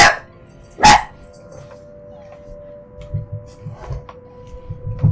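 A dog gives two sharp barks early on, loud and close, followed by quieter whimpering and shuffling sounds indoors with a faint steady hum in the room.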